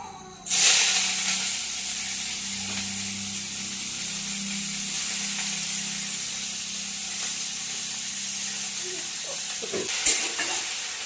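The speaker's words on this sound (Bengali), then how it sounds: "এই বাঁধাকপিটা একটু ফ্রাই করে নিই" Cabbage for chicken chow mein fries in a pan with a close, steady sizzling hiss; an initial burst as it hits the oil, then continuous frying with occasional stirring scrapes and a clatter near the end.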